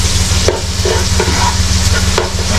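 Garlic frying in a pan, a loud close sizzle with a low steady hum beneath and regular stirring clicks, no talk.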